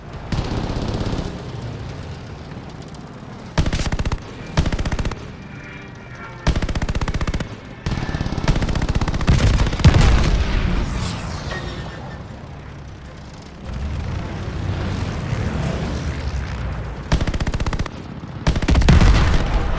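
Gunfire from the video game Call of Duty Vanguard at the Battle of Midway: loud bursts of machine-gun fire and single shots with booming impacts, erupting in repeated clusters separated by brief lulls.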